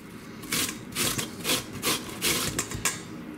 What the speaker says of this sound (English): So let's grate this onion up.